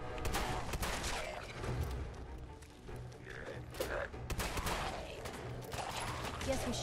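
Rapid bursts of gunfire in Fallout 4 crack and thump in a dense, ragged volley across the whole stretch, with game sounds and a voice mixed in underneath.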